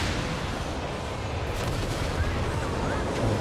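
Artillery barrage in the World War II strategy game Company of Heroes 3, aimed at a 17 pounder anti-tank gun: dense, rumbling shell impacts and booms rolling continuously under background game noise.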